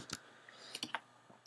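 Computer keyboard typing a short word, a few quiet, close key clicks spaced unevenly across a second and a half in a hushed room.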